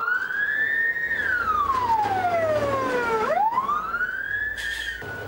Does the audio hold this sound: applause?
no